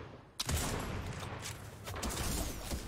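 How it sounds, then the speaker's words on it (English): Sustained volleys of gunfire are aimed at a player hiding in a tree in a Fortnite match, starting with a sharp crack and then running on as a loud, dense barrage that surges again toward the end. "they're shooting me!"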